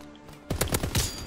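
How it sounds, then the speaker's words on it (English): Gunfire in the World War II shooter Call of Duty: WWII: after a short quiet moment comes a quick, loud burst of several rapid shots close by. "Someone was shooting at us."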